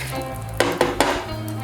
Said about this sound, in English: I'm trying to like deglaze the pan here to get up some of the scrapings.